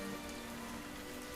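Rain falls steadily on a surface, a soft, even patter with a faint low tone running underneath and no voices.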